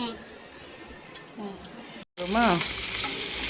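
Onions sizzling in a pan for a vaththal kulambu made without vaththal, a steady loud fry that jumps up midway after a brief gap, with a person speaking over the hiss.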